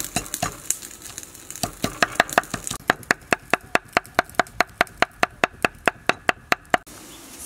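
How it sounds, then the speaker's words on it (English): Dry chili is chopped with a knife on a board in a kitchen, a run of sharp, evenly spaced knocks that speed into a fast steady rhythm, close and clear, with no talking. "So now let's chop dry chili."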